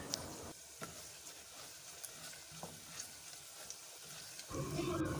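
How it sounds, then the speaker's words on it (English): Spaghetti jollof with rosemary being gently stirred in a pot, a soft steady scraping and sizzling close by, with a brief louder clatter near the end. "I'll just give this a gentle stir"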